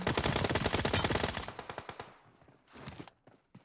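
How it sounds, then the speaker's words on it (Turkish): Gunfire in the mobile game PUBG Mobile: dense, rapid automatic bursts that thin out into scattered single shots and a final short burst, loud and close. "Oho herkes buraya sıkıyor."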